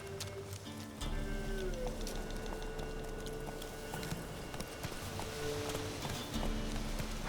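Roach, the horse in The Witcher 3, gallops with a fast, steady drum of hoofbeats under a dense wash of game ambience and music, moderately loud throughout.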